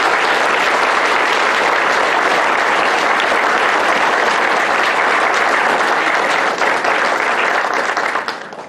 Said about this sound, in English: Please join me in a round of applause for these students before dismissal.